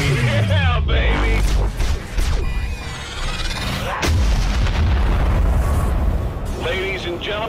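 Explosions and enemy gunfire in a mobile video game, heard as a loud, dense barrage of booms and rumbling blasts that runs throughout, with a voice speaking over it.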